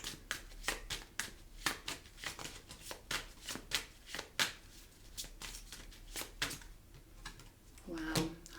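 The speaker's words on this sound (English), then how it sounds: "Now I'm going to pull an Ancestor card." Oracle cards shuffled by hand, a close series of quick, crisp riffling snaps in a steady rhythm, with a voice briefly audible near the end.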